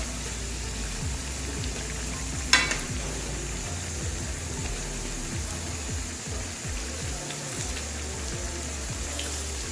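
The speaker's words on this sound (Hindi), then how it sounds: "नए पकौड़े हम इधर डाल देंगे और फिर इनको भी अच्छे तरीके से हम दोनों साइडों से" Potato and spinach pakoras fry in hot oil with a continuous soft sizzle and crackle, low in level, with one sharp knock partway through.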